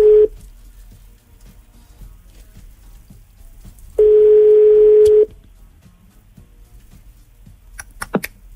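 Telephone ringback tone on an outgoing call during a radio morning show: two steady, clear tones, one short at the start and one lasting over a second about four seconds later, with quiet line hiss between and no talking.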